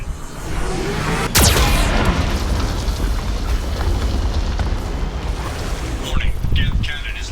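Geth cannon fire in the video game Mass Effect Legendary Edition, a sudden loud boom followed by a long rumbling roar and debris-like crackle.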